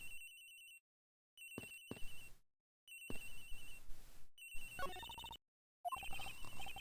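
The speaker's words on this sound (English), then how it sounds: "Agent Hicks' phone. It's ringing from somewhere, sir." A cell phone rings in the detective game Ace Attorney Investigations, playing an electronic tone in repeated bursts separated by short silences, clear and fairly close, with no talking.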